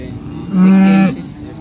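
A fresh dairy cow at the Modnimb cattle market lets out one loud, sustained moo lasting about half a second, close by against low market background noise.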